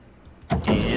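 A car engine cranking but failing to start, a sound effect from the video game Zero Escape: Virtue's Last Reward. A quiet rattle gives way to a loud, rough mechanical churning that continues to the end.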